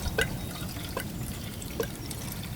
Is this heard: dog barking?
no